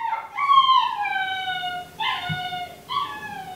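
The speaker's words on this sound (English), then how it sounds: "I'm waiting for my puppy to settle down because she just keeps whimpering." A puppy whimpering indoors in three drawn-out, high, whining cries, close and fairly loud, each sliding down in pitch with short pauses between, no talk over it.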